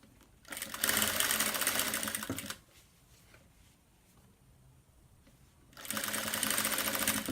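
A sewing machine stitches fabric piping onto a round bag in two close, steady runs of rapid needle chatter separated by a quiet pause of a few seconds.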